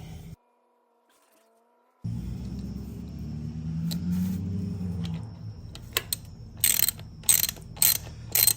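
A wrench tightens a part during an oil change on a Harley, giving short mechanical ratcheting clicks up close, then a run of sharp clicks and knocks after a brief silence.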